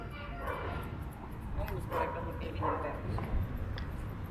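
Several dogs bark in short yappy bursts along a street in Mexico, fairly close and repeated throughout, over outdoor street ambience with voices mixed in.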